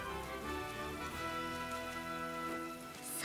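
Steady rain falling in the video game Atelier Ryza 3, a soft continuous patter heard alone, with game music sustained underneath.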